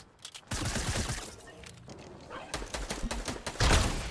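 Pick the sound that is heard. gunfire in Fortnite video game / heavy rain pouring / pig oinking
gunfire in Fortnite video game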